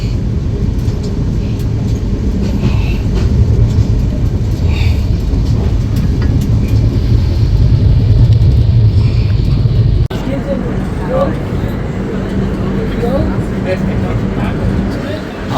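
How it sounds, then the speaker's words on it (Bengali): The Dhauli Express runs along, heard from inside an AC chair car as a steady low rumble and hum of the moving carriage, with muffled talk among passengers throughout. "আমাদের ট্রেনের পরবর্তী হল্ট কটক থেকে ট্রেন ছাড়লো"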